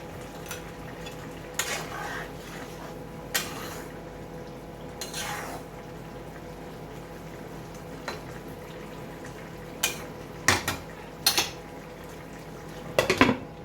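A metal lid clanks onto a cooking pot of simmering drumstick and dal, several sharp knocks and scrapes standing out over a low steady bubbling, the clearest clatters coming in a cluster near the end.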